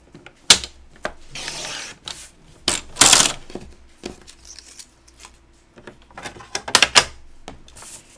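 A paper trimmer slices an 8.5 by 11 inch sheet of cardstock for card making, with several short, crisp cutting and sliding strokes interspersed with light handling clicks and quiet pauses.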